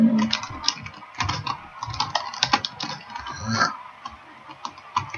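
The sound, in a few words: typing on a computer keyboard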